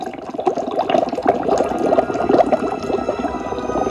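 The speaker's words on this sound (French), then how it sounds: "L'eau se met à bouillir." Water coming to a boil in a pot, a steady close bubbling and gurgling that stays loud and continuous throughout with no talk.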